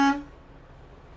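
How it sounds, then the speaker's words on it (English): A truck air horn gives one short, loud blast at the very start and cuts off quickly, leaving only low cab rumble during an in-cab CDL pre-trip inspection. "and my air horn."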